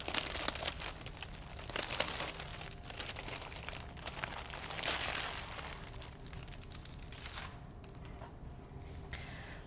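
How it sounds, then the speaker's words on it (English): Plastic packaging crinkling and crumpling as a fabric planner cover is unwrapped, a continuous close rustle with a few louder crackles, quieting near the end. "unwrap this"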